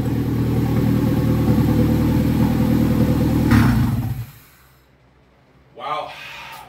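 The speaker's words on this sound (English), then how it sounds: "sometimes these small engines at an idle, they have trouble spinning the turbo" A small turbocharged EM2 car engine runs steadily at idle on its first start-up after a turbo install, a loud continuous drone that cuts off abruptly partway through, followed by a brief low rumble near the end.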